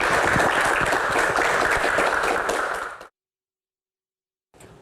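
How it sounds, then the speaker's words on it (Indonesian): An audience at an Islamic Q&A gathering claps for the first box, a dense burst of applause that stops abruptly after about three seconds, then silence and a brief return. "Tepuk tangan dulu untuk box pertama."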